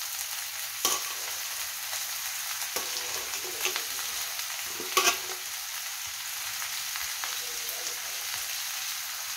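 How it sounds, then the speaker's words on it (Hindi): Shredded cabbage and mixed vegetables fry in a pan for a veg spring roll filling, giving a steady close sizzle broken by a few sharp clicks of stirring. "इसमें हम सारी सब्जियां डाल दिए हैं और इसे हम पका लेते हैं।"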